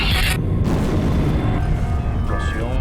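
A deafening explosion that destroyed houses erupts in a loud boom with a sharp crackling burst, then a rumbling roar that stays heavy and close for the rest of the moment.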